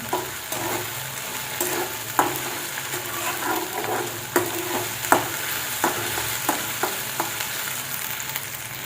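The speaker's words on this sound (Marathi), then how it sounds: "ह्याच्यामध्येच आपण टाकणार आहे आता ही तडका मिरची. ती पण चांगली आपण परतून घेऊ." Tadka chillies frying in a pan with onion and ginger-garlic paste for mushroom masala, a constant hot sizzle with repeated spatula scrapes and clacks against the pan, close and steady, with no speech.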